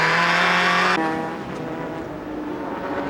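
JGTC race cars, a BMW and a Toyota MR2 battling for the lead in 1997: a loud high-revving engine whine that suddenly drops away, leaving a lower, rougher engine drone and road noise.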